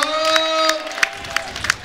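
A crowd at a boxing match in the Cabourg hippodrome applauds and cheers after the eighth round, with scattered sharp claps over a sustained tonal hum.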